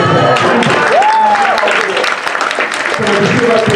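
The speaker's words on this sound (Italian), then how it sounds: "un applauso a voi" An audience applauds the amateur cast of an Easter comedy at an Italian community club, clapping densely while voices and a rising vocal tone sound over it.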